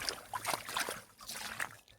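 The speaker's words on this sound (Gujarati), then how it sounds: "પાણીના સબસબિયા થાય છે" Water rushing along an open irrigation channel in a field, splashing and sloshing steadily as it flows past, a continuous bright gurgle with small surges, close by.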